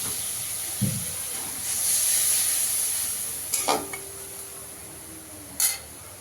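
Spice paste for a paneer moong dal curry hisses and sizzles in a pan as water goes in, a swelling steamy hiss with a few sharp utensil clinks on the pan, close and free of speech.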